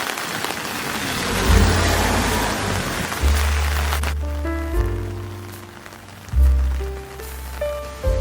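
Morning rain in Daegu, South Korea ahead of the monsoon season, a loud hiss of falling rain for the first few seconds, then quieter patter with intermittent tonal sounds and low rumbling.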